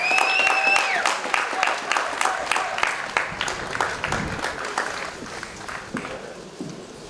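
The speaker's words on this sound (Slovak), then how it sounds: "Veľký potlesk poprosím." Crowd clapping at an award ceremony for a town running race in Nové Zámky, scattered claps building then thinning out, with a tonal whistle-like sound at the start and a voice briefly heard.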